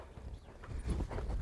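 Hooves of a six-year-old Selle Français stallion being ridden, a quick run of close, rhythmic footfalls landing at a steady pace.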